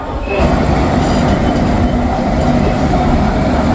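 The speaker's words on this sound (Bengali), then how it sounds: "কিন্তু আমাদের ট্রেন ছেড়ে দিল" An overnight passenger train pulls out of the station on the Madhupur route, with a steady, loud rumble and rattle of the carriage rolling continuously and close by. No one speaks.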